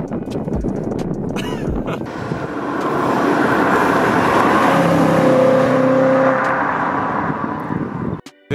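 A BMW E92 M3 drives along a hill road, its engine and exhaust building to a loud, sustained roar with a rising tone, mixed with heavy wind buffeting and ending abruptly.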